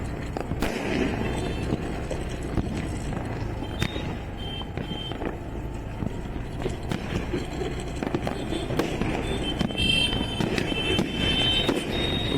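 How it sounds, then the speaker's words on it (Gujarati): Firecrackers burst during Diwali celebrations, with sharp pops and bangs scattered irregularly, some near and some far, over a constant outdoor background hum. "ભાઈ ભાઈ બધા ફટાકડા ફોડી રહ્યા"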